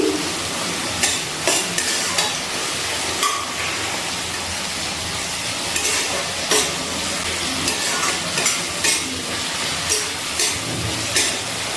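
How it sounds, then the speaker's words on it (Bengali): Chicken patiala masala with tomatoes being stirred and fried in oil over a medium gas flame, with a steady close sizzle and repeated scraping stir strokes throughout, and no talking. "এবারে গ্যাসের ফ্লেমটা মিডিয়ামে রেখে আমি সব কিছু একটু তেলে নাড়াচাড়া করে ভাজা করে নিচ্ছি।"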